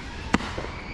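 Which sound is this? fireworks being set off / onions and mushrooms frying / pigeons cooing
fireworks being set off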